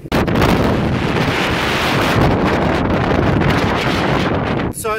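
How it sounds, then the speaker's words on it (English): Strong wind buffets an outdoor microphone in Ebene, Mauritius, a loud continuous rumbling roar that fills the whole stretch. "it's gotten a little bit windy"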